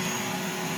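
A DIY bee vacuum for a Layens hive runs with a steady, close, whooshing roar and a faint high whine, alone and unbroken throughout.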